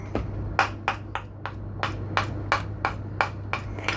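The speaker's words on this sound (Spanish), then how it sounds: "vamos a batir con la varilla para darle aire a esta masa" Vegan sweet bread dough whisked by hand with a wire whisk, giving about a dozen evenly spaced, sharp clicking strokes at close range over a steady low hum, with no talking.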